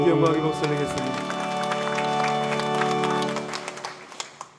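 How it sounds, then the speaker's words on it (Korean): A church congregation claps after sustained tonal singing or music fades, the claps growing into scattered, uneven bursts toward the end. "우리 주님께 영광의 박수 드리겠습니다"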